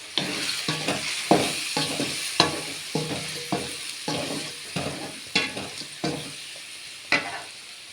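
Masala frying in a pan for a vegetable paneer gravy, with a steady sizzle under repeated scraping stir strokes that come roughly every half second, fairly loud and close, with no voices.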